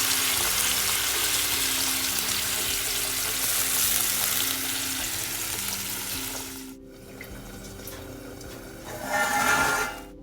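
Onion gravy with whole spices and cumin sizzles loudly and steadily in a kadai for several seconds, then drops off sharply, followed by a quieter stretch with a brief swell of stirring or sizzle near the end.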